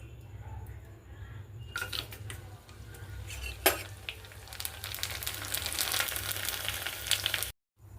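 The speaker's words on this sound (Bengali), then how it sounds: "এবারে ব্যাট পাঁপড় ভাজবো।" Sago-based bat papad crackers frying in hot oil: a quiet start, then a steady, dense crackling sizzle from close by that holds to the end and cuts off abruptly.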